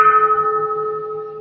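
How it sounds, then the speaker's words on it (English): A bell struck once during a Buddhist chant service rings out with a bright attack and a long, steady, humming decay that stays loud and close for the whole moment, with no voices. "Vowing that the sound of this bell pervades the universal"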